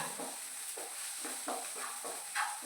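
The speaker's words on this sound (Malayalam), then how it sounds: "സവാള ചെറുതായിട്ടായിരിക്കും ഇതിലേക്ക് ഇങ്ങനെ ആഡ് ചെയ്യുക. നന്നായി ബ്രൗൺ കളർ ആവുന്നത് വരെ" Chopped medium onions frying for mushroom masala, stirred in a pan: soft repeated scraping strokes about every half second over a steady light sizzle, close and fairly quiet with no talking.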